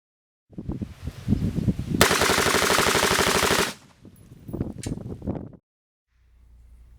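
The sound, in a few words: rifle shots fired through a muzzle brake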